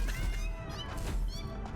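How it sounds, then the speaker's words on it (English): Creatures in the video game Satisfactory give off tonal, cat-like meows that rise and fall, several overlapping calls in quick succession over a low rumbling background. "Oh god, they're meowing at us."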